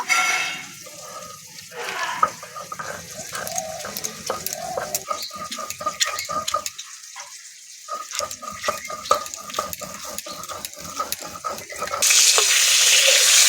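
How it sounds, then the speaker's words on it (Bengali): Sliced pointed gourd (potol) fries in hot oil in a pan, giving a continuous sizzle with stirring scrapes that grows louder and hissier near the end. "পটলগুলো ভালো করে ভাজা হয়ে গেছে"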